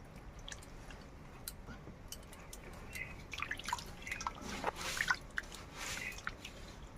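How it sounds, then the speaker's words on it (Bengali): Ripe mangoes sloshed and rinsed by hand in a basin of water, with soft irregular drips, splashes and squishy handling noises building to a busier patch near the end, close and fairly quiet. "একটু ধুয়ে নেবো বেশ ভালো করে আমগুলো।"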